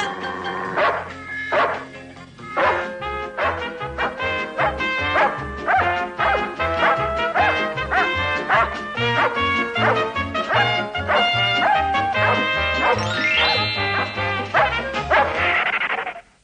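A dog barks repeatedly in short bursts over lively, bouncy music that runs throughout.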